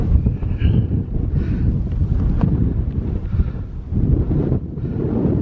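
Wind blasts across a rocky mountain summit on the Appalachian Trail, roaring loudly and continuously against the microphone in heavy buffeting gusts, with no voices.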